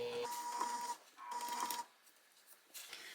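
A sewing machine stitches around a clutch wallet to close a zipper pocket, running in two short whirring bursts with a pause between them, quiet and close, with no voice.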